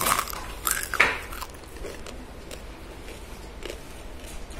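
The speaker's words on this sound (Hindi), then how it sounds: "इसका कुरकुरापन देखना है तो ये आवाज़ सुनिए।" Crispy fried macaroni snack, a crunchy namkeen, crackles in a few sharp, close bites and crunches during the first second and a half, then fades to faint rustling.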